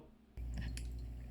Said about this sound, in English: Drops of water.